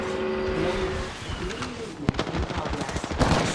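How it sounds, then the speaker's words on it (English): Rapid bursts of gunfire in Apex Legends, a cluster of sharp cracks after a stretch of engine-like drone and ambient game noise, with a louder shot near the end. "Shooting!"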